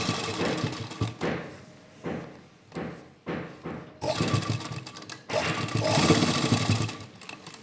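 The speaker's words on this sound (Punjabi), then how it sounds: "ਤੇ ਇੱਥੇ ਆਪਾਂ ਕਰਕੇ ਸਿਲਾਈ ਲਾ ਦੇਣੀ ਹੈ" Sewing machine stitching cotton lace onto fabric, heard as close, loud bursts of rapid whirring stitching broken by short pauses and handling knocks, with no talk.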